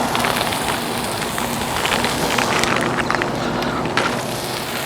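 A crustless pizza with mushrooms sizzles and crackles steadily on a Blackstone griddle, with close, continuous frying pops and hiss and no talk.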